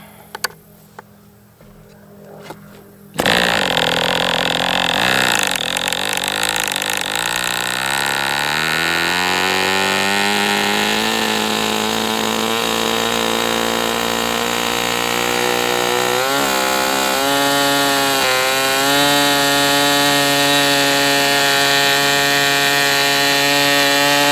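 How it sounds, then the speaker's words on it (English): After a short quiet start, a small MDS 68 FS Pro model four-stroke engine roars to life during a break-in run and runs steadily at high revs, its pitch rising and settling as it keeps going. "Let's fire this engine up."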